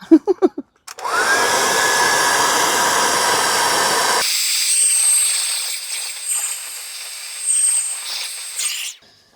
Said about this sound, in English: So I've got a hairdryer here to speed things up.